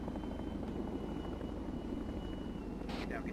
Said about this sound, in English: It's a friendly chopper.